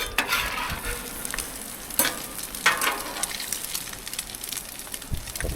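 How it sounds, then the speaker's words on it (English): Eggs fry on a Blackstone griddle at a cabin in Newfoundland, giving a steady close sizzle broken by scraping spatula strokes and a few sharp clicks, with no voices. "the eggs are cooking"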